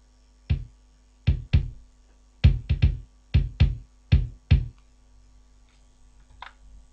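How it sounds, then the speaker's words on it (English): An acoustic kick drum from a rock drum kit thumps nine times, alone, in short, dry, punchy hits with an uneven rhythm and a little quiet room noise between strokes. "a bass drum, which sounds like this."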